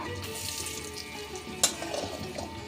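Dried red chillies and garlic fry in hot oil with a steady, close sizzle and one sharp crackle partway through.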